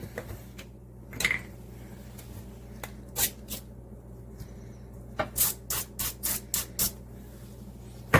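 Cooking spray hisses onto smashed potatoes in several short bursts, sparse at first then a quick run of six or so puffs, close and fairly quiet.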